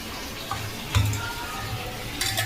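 Hot tempering for moong dal hits the pot with a brief sizzle and splash, followed by a low frying hiss with a few clinks and stirring noises, close by and with no talk.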